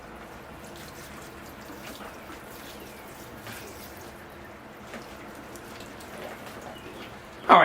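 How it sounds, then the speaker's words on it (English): Water pours and splashes over coconut coir in bonsai soil, a steady close trickle with scattered drips and patters, louder in a brief splash at the end. "The coconut core tends to wash away as you water, so I'm going to wash it away"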